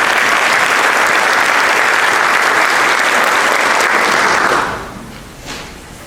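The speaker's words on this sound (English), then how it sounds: "please give a round of applause for our honored guests and congratulations to the recipients of the special awards" A large audience at a high school senior awards ceremony gives loud, sustained applause that fades out near the end.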